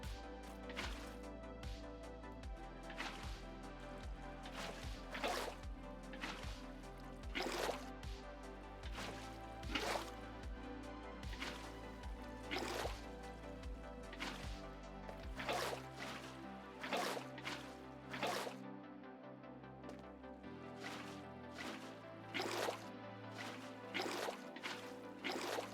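Water buckets being placed over and over in Minecraft, a string of short wet splashing pops in quick succession, quiet and repeated throughout over a soft background music bed.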